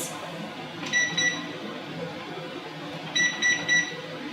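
A kitchen oven timer being set gives two clusters of short electronic beeps, a brief one near the start and a quicker run of several tones later, clear and close over a low room hum.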